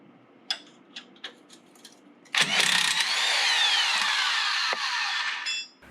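A cordless impact wrench on a Nissan Titan rear shock's lower bolt: a few light clicks and taps, then a loud, sustained whirring hammer burst lasting about three seconds, briefly easing before cutting off.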